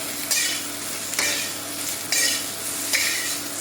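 Onions stir-fry in a wok on an induction burner, a steady close sizzle broken by four sharp scraping stirs at regular intervals.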